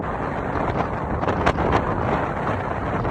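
Strong wind blasts across the microphone while a sailboat lies at anchor in a sheltered bay off Albania, a steady roar with a sharper gust around the middle and no voices.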